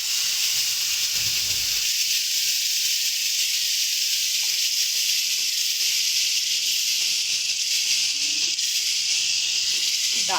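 Water poured bit by bit into semolina frying for sooji halwa gives a steady, loud hiss and sizzle throughout, broadband and continuous, with faint bubbling underneath and no talking.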